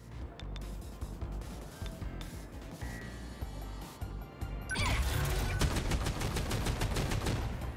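Loud rapid bursts of multi-launching rapid cannon fire in the video game 13 Sentinels: Aegis Rim, first scattered shots then a fast, steady volley of repeated blasts that runs on without pause.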